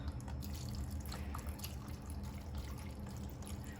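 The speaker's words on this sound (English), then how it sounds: "we're gonna pour in some beef broth" Beef broth is poured from a container into a pot on the stove for red beans and rice, giving a steady liquid trickle and splash throughout, close and moderately loud over low kitchen hum, with no talk.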